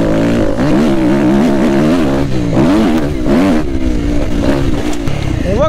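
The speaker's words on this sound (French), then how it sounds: "On reconnaît bien le moteur 4 temps" A 250F four-stroke motocross motorcycle engine, loud and close, revving up and down through continuous rising and falling pulls with a rough, uneven note.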